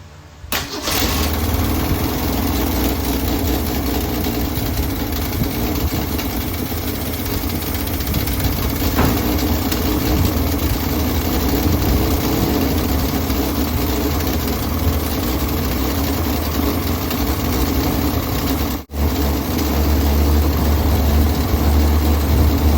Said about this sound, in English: I'm gonna go ahead and get her started up and then just see how it runs.